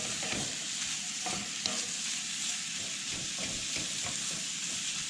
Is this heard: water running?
no